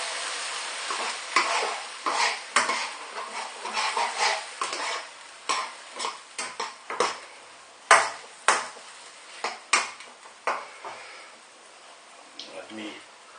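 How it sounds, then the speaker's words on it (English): Ingredients for a Chinese chicken curry stir-fried in a pan, with repeated scraping and stirring strikes in an uneven rhythm over a soft background sizzle, near and fairly loud, alone without talk. "Stir fry them for about say 3 minutes."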